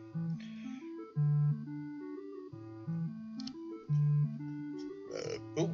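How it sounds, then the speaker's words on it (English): Long, loud, drawn-out burps with shifting pitch, repeated several times in close succession, near and alone. "Burping again."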